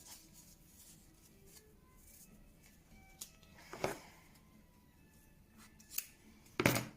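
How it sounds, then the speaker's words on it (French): Scissors cut a ribbon in two for a vintage A5 scrapbook album, heard as a few sharp, close snips spread across a quiet room, the last one the loudest, with no talking. "j'ai fait le choix de prendre un ruban que je vais couper en"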